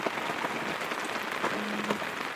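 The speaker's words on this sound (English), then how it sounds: "another day of rain." Rain falls steadily at a bush campsite beside a creek and track, a soft, even patter of drops on surfaces, fairly faint and close, with no voices.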